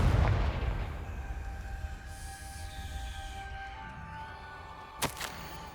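A Confringo blasting spell explosion in the video game Hogwarts Legacy: a single heavy boom at the start that rolls off into a long rumbling decay, followed by a sharp, brief crack near the end.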